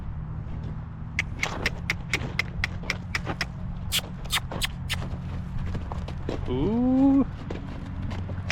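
Roping horse's hooves clip-clop at a steady walking rhythm on a ranch, with a brief animal call and a short exclamation from a person near the end.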